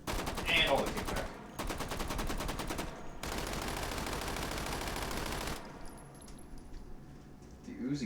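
Rapid Uzi submachine gun bursts in the VR shooter Hot Dogs, Horseshoes and Hand Grenades, long rattling strings of fire with short breaks, then quieter handling noises and a voice.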